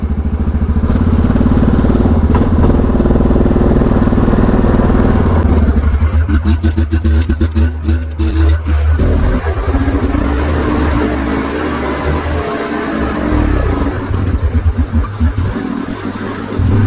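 A loud, close four-wheeler ATV engine towing a trailer drones and rattles as it drives along, with bumpy clattering and shifting throttle over a long stretch.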